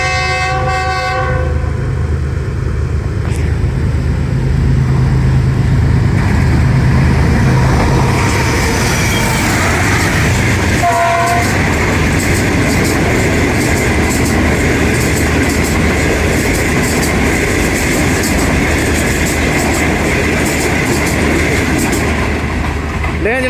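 The Green Line express, 5 Up, rushes past near Kala Shah Kaku on the Pakistan Railways line, with a loud horn blast at the start and a dense roar of wheels clattering over rail joints throughout.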